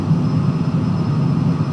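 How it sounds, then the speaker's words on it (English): Loud, steady engine roar heard from inside a light aircraft as it takes off from the runway at St. Louis, a continuous broadband drone with no pauses. "We should be coming off the ground, and we are."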